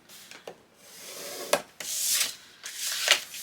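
Paper being scored on a scoreboard tool for a Christmas mini album, with several short scraping strokes and rubs, close and clear, in bursts with brief pauses between them.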